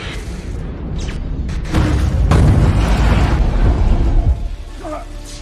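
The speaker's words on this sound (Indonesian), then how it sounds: "kereta tak sengaja menabrak pembatas rel dan menabrak beberapa rumah di" A heavy, rumbling crash of a train hitting a rail barrier and houses, with booming impacts and crunching debris that builds and swells before tapering off, a voice faintly underneath.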